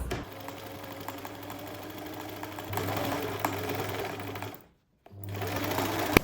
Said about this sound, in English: Now I'm quilting the other direction, same as before.